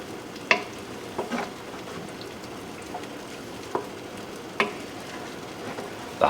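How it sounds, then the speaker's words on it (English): Chicken in vodka sauce being stirred in a pan over low heat, a soft steady simmer with a few scattered clinks and scrapes of the spoon, close by and fairly quiet. "we're just gonna give it a stir"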